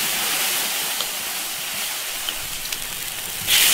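A bottle of beer poured into a hot iron wok of fried seasonings and stock, a steady rushing hiss for several seconds that ends in a louder splashing burst.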